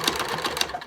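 A sewing machine stitches along the top nose edge of a fabric face mask, past a pinched pipe cleaner, in a quick, close run of rhythmic needle strokes that tapers off at the end.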